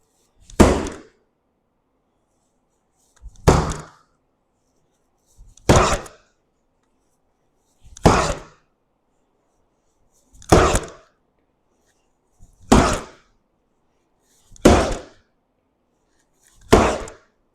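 Heavy whip strikes land on a target one at a time, eight loud, close, broadband thumps spaced about two seconds apart with near silence between them.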